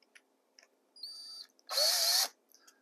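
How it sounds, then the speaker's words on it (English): A power drill drives drywall screws through stacked foam layers to pin them together, giving a short whir followed by a louder half-second burst of motor whine as the screw bites in, with no talking. "I'll put drywall screws through the layers of foam, and that just acts as a pin"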